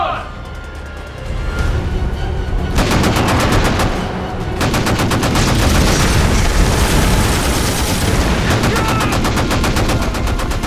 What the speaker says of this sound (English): I want to see heavy fire directed to that beach.